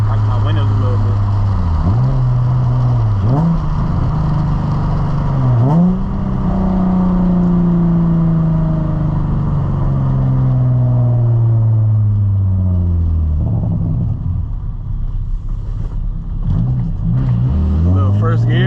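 Infiniti G35 exhaust on a late-night cruise, a loud steady drone that rises and dips through gear changes, with pitch sweeps where the car shifts, continuous for the whole stretch.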